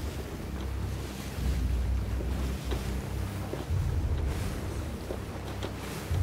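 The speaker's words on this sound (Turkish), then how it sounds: "Rüzgar hep tersimize esiyor" Wind rushes steadily across open sea in a sailing captain video game, a dense low roar with wave wash beneath, loud and continuous with gusty swells, no voices heard.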